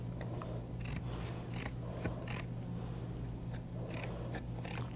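Repeated crisp snips of scissors cutting, about a dozen quick strokes in an irregular rhythm over a low background hum.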